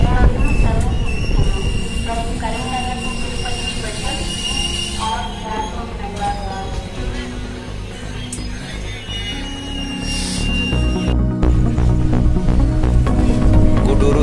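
A passenger train pulls into Gudur railway junction with a loud, continuous rumble of cars and high-pitched wheel squeals that rise and fall, and a heavy low roar building toward the end.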